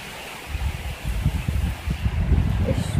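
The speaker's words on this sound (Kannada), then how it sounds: "ಎಷ್ಟು ಜೋರಾಗಿ ಗಾಳಿ ಬಂತು" Strong gusty wind blows during a rainstorm, a low, blustery rumble battering the microphone and swelling louder toward the end, with a faint rustle on top and no voices.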